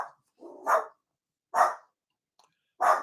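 A dog barks in three separate sharp bursts spaced about a second apart, fairly close and clear against near-silence, with a softer lead-in before the first bark.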